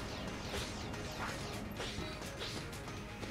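In the video game Enter the Gungeon, a reload stone sucks in incoming projectiles during a boss fight, giving a dense busy rush of repeated swooshing, clanking and crashing effects over steady game noise.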